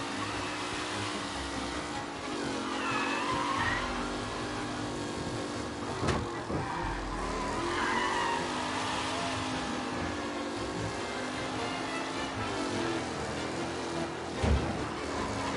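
Race cars on the final lap in the video game Mafia Definitive Edition, a continuous engine drone whose revs rise and fall in sweeps, moderately loud and steady throughout with no voices.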